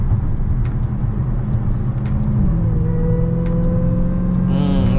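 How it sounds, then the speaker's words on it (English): Engine and supercharger whine from a 2020 Dodge Charger SRT Hellcat Widebody, a loud steady drone with a rising tonal whine that climbs in pitch as the car pulls, heard from inside the cabin. "Listen to that whine, baby."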